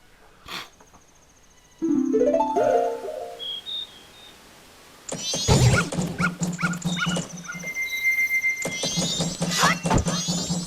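A dog in a Majora's Mask game build made in Unreal barks in short sharp bursts, mixed with game sound effects, chimes and bird-like chirps, clear and close with no talking.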